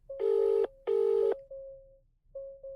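A telephone rings in an audio drama, two loud electronic ring bursts in quick succession followed by a softer steady tone, with no talking.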